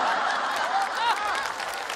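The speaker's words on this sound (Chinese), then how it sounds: "此处有雷鸣般的掌声" Brief applause from a crowd in a comedy sketch, mixed with a few voices and light chuckles, holding steadily for about two seconds.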